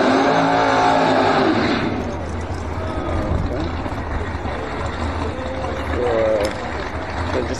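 A no-prep drag race car does a burnout at a Dallas, Texas drag strip, a loud, roaring engine with revving and tire noise, with voices talking over it.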